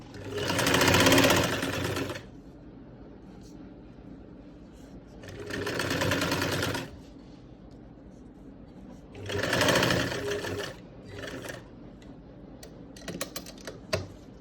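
An electric sewing machine stitches a folded fabric neckline in three loud, fast-rattling bursts separated by quieter pauses, with a few light clicks at the end.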